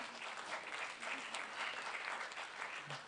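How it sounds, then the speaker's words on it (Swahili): Applause from people in the media booth at the back of a church during a sermon, a faint, distant, steady patter of many hands clapping that lasts a few seconds. "Nimewasikia makofi yenu kule nyuma kwenye booth yao wamepiga makofi."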